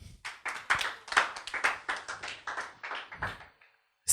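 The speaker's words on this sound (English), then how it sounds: "Applaud." Audience applause in a management-themed talk, a steady run of hand claps lasting about four seconds at moderate level, then cutting off.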